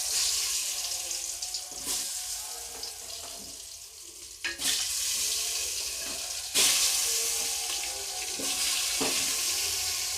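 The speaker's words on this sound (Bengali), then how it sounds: "আমি এই তেলের মধ্যে এই আলুগুলোকে একটু ভেজে নেব" Potato pieces fry in hot oil for Bengali-style mutton kosha, a continuous close sizzle broken by a few louder bursts as they are stirred, with no talking.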